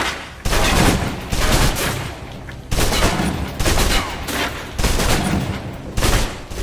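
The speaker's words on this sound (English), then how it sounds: "Now, let's move on to the submachine gun. Now let's empty the clip." A submachine gun in the video game Alpha Protocol is emptied in several long, loud bursts of rapid automatic fire, each broken by a short pause.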